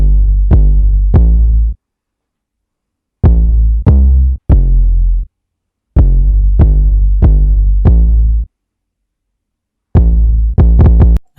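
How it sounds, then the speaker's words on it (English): Deep hyperpop trap 808 bass notes play in separate phrases of sustained, booming, pitch-gliding hits with gaps of silence between groups; loud, close, and alone with no voices. "So this is the 808."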